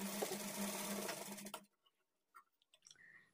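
Sewing machine stitching cross pieces of blouse lining, a fast close mechanical whir for about a second and a half, then stopping abruptly, followed by faint handling clicks.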